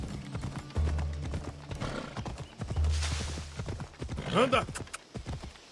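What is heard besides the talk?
horse hooves and neigh in video game Assassin's Creed Odyssey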